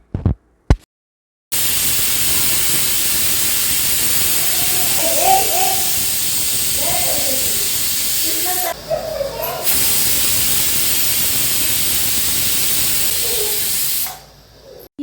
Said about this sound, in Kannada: ಸೊ ನಾನೀಗ ಲಿಡ್ನ ಕ್ಲೋಸ್ ಮಾಡಿ ವಿಷಲ್ನ ಹಾಕಿಬಿಟ್ಟು 2 ವಿಷಲ್ ಹೊಡೆಸ್ಕೊಳ್ತಾ ಇದ್ದೀನಿ.